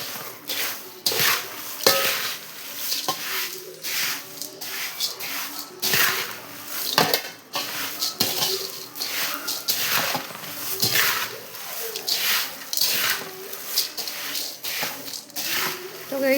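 Puffed rice and flattened rice snack seasoned with red chilli powder is tossed and stirred in a dish, giving repeated dry rustling and scraping strokes close up, with no voice present.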